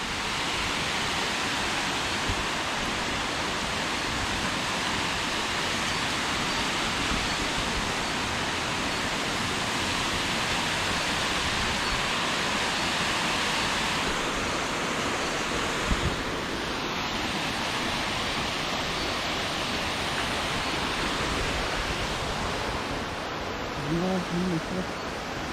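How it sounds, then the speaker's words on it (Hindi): A forest waterfall in the Cameron Highlands rushes in a loud, steady broadband roar that fills the whole stretch, close and constant, with brief faint human sounds near the end. "यहाँ पर एक झरना है, वाटरफॉल।"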